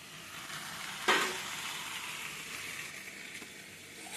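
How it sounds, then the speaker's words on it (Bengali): Meat being stir-fried in a pan, a soft steady sizzle with one sharp clatter of a utensil early on, heard close with no talking. "মাংস কষানো হচ্ছে"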